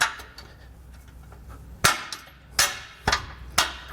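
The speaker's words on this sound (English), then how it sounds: "we're going to take our 5/8 bolt and a split lock washer, and we're simply just going to kind of push it through" A 5/8 bolt with a split lock washer pushed through a Blue Ox base plate on a 2013 Jeep: four sharp metallic knocks and clinks in the second half, loud and close, with faint handling noise between them.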